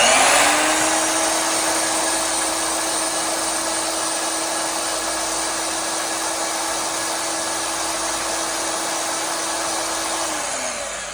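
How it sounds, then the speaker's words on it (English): Bandsaw running on a portable power station (AFERIY 2400W 2048Wh), a steady loud motor whine and whir that holds a constant pitch, then starts to wind down near the end, with no talk. "let's try the bandsaw now, see how it handles everything"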